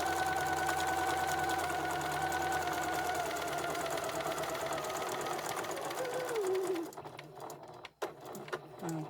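A sewing machine stitches the neck seam of a memory bear at a quarter-inch allowance, a steady whirring run that slows and winds down, followed by soft handling noises and a sharp click.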